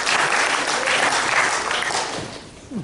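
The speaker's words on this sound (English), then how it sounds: "Come on. Let's clap," An audience claps loudly and continuously in a large room, the dense applause holding steady before fading slightly toward the end.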